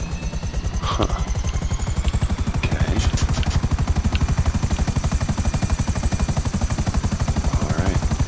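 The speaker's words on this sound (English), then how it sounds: "Go to LSIA and enter a helicopter." Helicopter in GTA 5 Online, a loud, close rotor chop pulsing in a fast steady rhythm with engine whine throughout, while a voice briefly says a couple of words.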